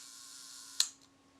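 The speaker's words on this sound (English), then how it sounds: "As I release the shutter," Voigtlander Bessamatic camera shutter releasing, a single sharp mechanical click with a short fading tail over a faint steady hum, close and quiet.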